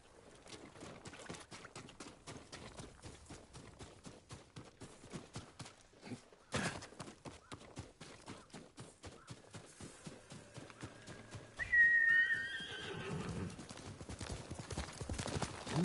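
A horse in the Ghost of Tsushima video game gallops with rapid, rhythmic hoof clip-clops, then gives a loud whinnying neigh near the end, with no talking over it.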